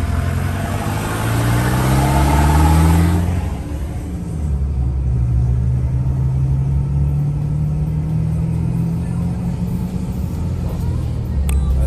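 A vehicle with a modified exhaust revs loudly up close, a deep rumbling drone that swells, dips, then holds a steady roar.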